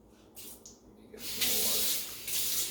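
Tap water gushes into laboratory glassware as a hissing, splashing stream that starts abruptly after a brief pause and runs on steadily, close and moderately loud, with no talking.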